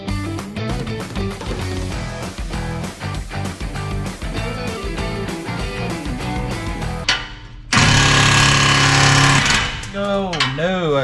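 A half-inch impact gun tightens exhaust bolts on a truck fitted with a dual 3 inch exhaust, hammering in rapid rattling bursts before one loud sustained run near the end.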